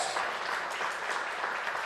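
Congregation applauding during an evangelical church service, a dense steady wash of clapping with no clear gaps across the short stretch.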